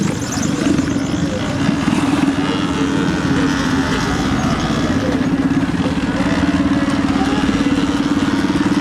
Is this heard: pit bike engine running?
yes